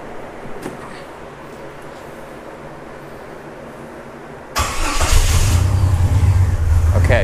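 The engine of a Jeep Wrangler YJ under rebuild catches after cranking and roars to life, then holds a loud, steady, rough rev close by.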